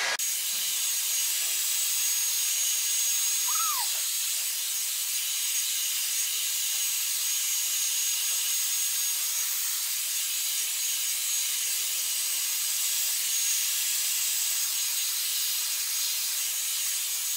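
Dyson Airwrap with the smoothing attachment blowing on its second heat and airflow settings, a steady close airy whoosh that runs unbroken throughout with no talking.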